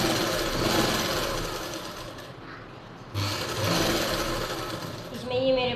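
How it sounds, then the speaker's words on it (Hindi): Sewing machine sewing a straight stitch through baby frock fabric, running in two steady bursts of fast mechanical whirring with a brief pause between them, heard close by. "इसमें ऐसे सीधी सिलाई लगा लेंगे।"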